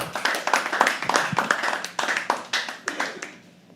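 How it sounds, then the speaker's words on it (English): An audience at a live poetry open mic clapping steadily in a fast, even rhythm of distinct hand claps, fairly close, tapering off toward the end. "Keep clapping till Ritual comes on stage"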